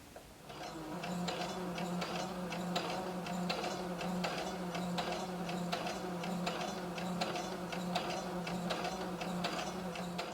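A sewing machine stitches knit fabric for a maxi dress, a steady close mechanical whir with rapid ticking needle strokes running continuously without pause, no voices.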